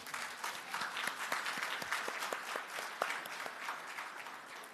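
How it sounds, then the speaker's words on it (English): An alumni awards night audience applauds steadily, with dense clapping and individual sharp claps standing out throughout, holding at an even level without fading. "You deserve a round of applause."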